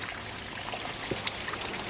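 Water pours and trickles at the Bolshoy Samshitovy waterfall near Sochi, a steady close splashing wash with a few brighter drips standing out, no talk over it.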